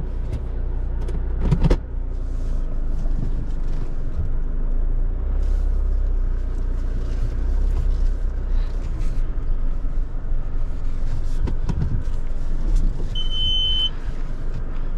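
Low, steady drone of a Mitsubishi L200 Triton pickup engine while driving, a continuous rumble heard from inside the cab with a few brief clicks and knocks.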